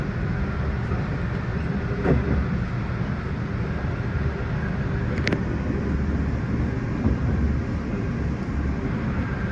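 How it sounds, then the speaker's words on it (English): A CN freight train rolls through the junction at Matteson, its steady, loud rumble and clatter of wheels on rail continuing throughout, with a few sharp squeals and clanks standing out and no voices. "That's a CN freight."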